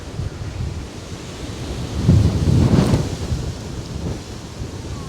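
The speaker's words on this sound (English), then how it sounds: "Oh, the wind is strong." Strong winter wind gusting through a Tokyo Japanese garden at Shinjuku Gyoen, a loud, steady roaring buffet that swells into a heavier gust midway, with no talking.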